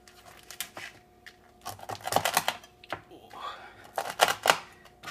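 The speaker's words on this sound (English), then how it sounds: "We're going to cut them up. We've got a knife right here." Chopping hot peppers with a knife on a board for beef chili with winter squash, a run of crisp uneven knocks and slices close up, at moderate level with louder clusters.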